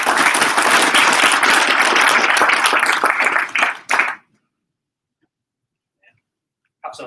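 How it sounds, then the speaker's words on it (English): Conference audience at a WinOps DevOps meeting breaks into loud, dense applause for about four seconds, then it cuts off abruptly into near silence, with a faint brief sound at the very end. "Round of applause."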